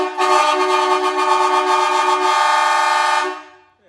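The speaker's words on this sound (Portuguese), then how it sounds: "As duas cornetas aqui, mesma pegada." Two marine air horns mounted facing downward on a Renault Master van blast together in one loud, sustained, brassy chord lasting about three seconds before cutting off and fading quickly, with no talking.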